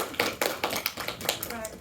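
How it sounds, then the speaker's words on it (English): A small lecture audience gives a brief round of applause, a short burst of scattered, fairly quiet claps lasting under two seconds. "we'll get a round of applause for that."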